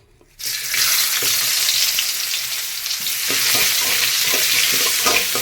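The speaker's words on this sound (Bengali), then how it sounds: "পেঁয়াজটা হালকা করে ভেজে নেব।" Onions drop into hot oil in a pan and fry with a steady, loud sizzle that starts abruptly and carries on without a break.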